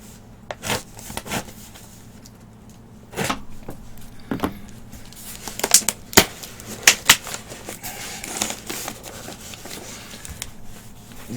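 Scissors snip and rub through taped cardboard packaging holding MSI Force GC30 game controllers, producing irregular sharp cuts and scraping rustles up close, with brief pauses between bursts.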